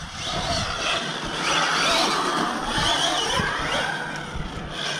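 Infraction RC car drifting with its gyro switched off, a steady mid-pitched electric motor whine with tire scuffing that rises and falls through long drifts, fairly close and continuous for several seconds.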